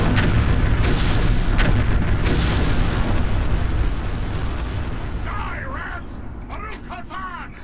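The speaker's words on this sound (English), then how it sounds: "That giant explosion." A giant explosion in the video game LotR War in the North rumbles loud and dense with deep booming and crackling bursts, then tapers to a fading roar as a voice talks over the end.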